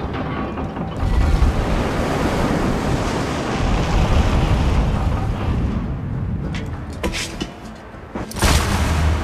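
Surf and waves wash steadily in an Assassin's Creed game scene, a loud broad rushing swell with wind-like texture and a couple of brief bumps near the end, no talking.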